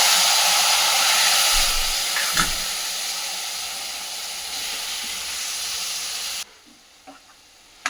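Mustard seeds splutter in hot oil in a pan for tomato chutney, a loud continuous sizzle with small pops and crackles that cuts to a quieter hiss near the end.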